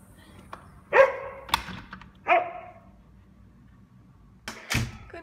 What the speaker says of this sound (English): Puppies are playing outside.